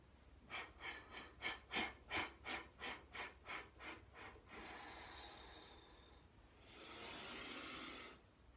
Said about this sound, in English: you're breathing to centre and you're exhaling